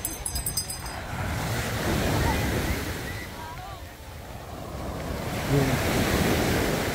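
Sea waves wash and surge continuously with wind buffeting the microphone, heard from a shoreline outing, fairly loud and steady throughout.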